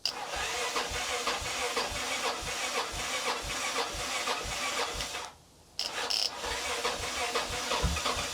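A Kawasaki motorcycle engine cranks over on a jumped battery, a steady loud chugging rhythm of starter turns with hiss, briefly cutting out near the middle before resuming.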